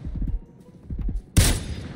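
Gunfire in the battle-royale video game PUBG on console: a run of rapid shots in two bursts, then one loud, sharp blast near the end, close and prominent with no talk over it.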